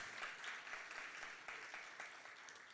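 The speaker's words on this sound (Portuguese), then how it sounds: "Será que Jesus merece um aplauso?" Church congregation applauding during a sermon, faint rhythmic clapping in unison with regular beats, heard at a distance.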